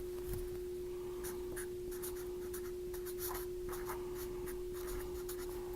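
A pen writes out the word tungsten, giving close, quiet scratching strokes in short bursts separated by small pauses, with a faint steady hum behind them.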